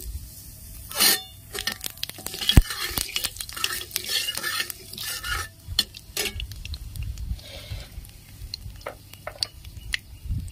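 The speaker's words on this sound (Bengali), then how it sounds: "কালো জিরে ফোড়ন দিয়ে দিচ্ছি।" Nigella seeds tempering in hot oil after fried tangra fish is lifted out: clattering stirs and scrapes of a utensil against the pan, with short bursts of crackling sizzle between quieter gaps, close by.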